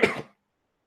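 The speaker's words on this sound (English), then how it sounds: "It was me burping and coughing to try to hide it." A single short burp cough, a burp and a cough merged into one throaty burst that cuts off into silence.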